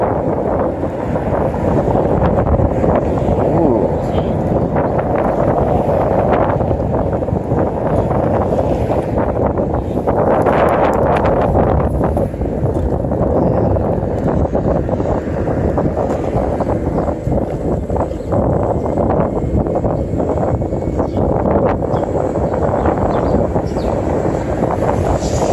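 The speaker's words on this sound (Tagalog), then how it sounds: "naririnig niyo yung hangin." Wind gusting steadily outdoors, a continuous broadband rush with microphone buffeting that swells slightly around the middle, heard alone with no voices.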